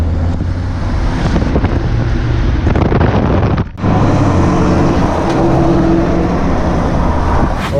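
A Cummins diesel truck with the exhaust dumped right after the downpipe under the cab on the passenger side, driving with a loud, steady rumbling drone and heavy wind buffeting, briefly dropping out for a moment midway.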